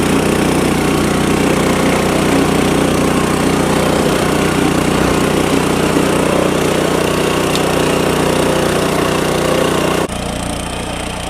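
A power weeder engine runs loud and close, a steady dense drone held for about ten seconds before dropping abruptly to a lower level.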